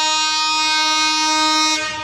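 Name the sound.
748 Simanto Express train with American locomotive entering Saidpur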